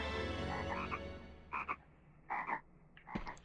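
Frogs croak in the ambience of the video game MediEvil, several distinct croaking bursts repeating at intervals over a soft background hum, with no voices.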